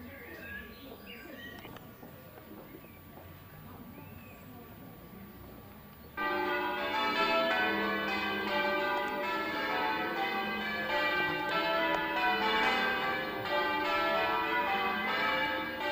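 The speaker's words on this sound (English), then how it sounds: "the sound of the birds and the bells" Church bells peal loudly and continuously in a dense, ringing wash, with birds twittering faintly underneath and outdoor ambience before the bells start.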